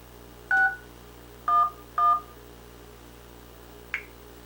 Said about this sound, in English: go to dial and dial 611